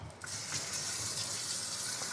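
Fresh water pours steadily into a container close by, a continuous gushing fill with faint splashes.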